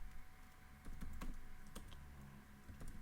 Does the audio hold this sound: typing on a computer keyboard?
yes